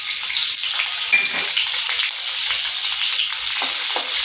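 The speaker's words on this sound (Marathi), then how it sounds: "तेल तापलं का मग त्यात आपण घालणार आहोत जिरं." Cumin seeds sizzle in hot oil for sabudana khichdi, a loud, close, continuous crackling hiss with faint stirring scrapes underneath.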